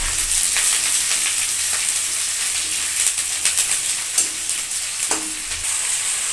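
Onions frying in a pan for a tomato curry, a steady close sizzle with faint stirring scrapes running throughout and no talking.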